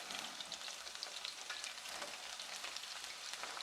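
Onion rings frying in a pan give a steady, dense crackling sizzle, close and fairly quiet, continuous throughout with no speech.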